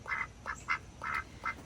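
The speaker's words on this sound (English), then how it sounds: "this is my house duck, Olivia Gray." A three-year-old pet house duck quacking indoors, five or six short nasal quacks in quick irregular succession, close and fairly quiet with no talking.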